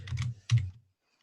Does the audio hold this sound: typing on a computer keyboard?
yes